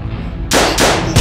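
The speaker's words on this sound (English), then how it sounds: "Gunshot!" Gunshots ring out during a police chase through a parkour scene, with three loud, sharp cracks at uneven intervals over a low rumbling background, each blast close and harsh.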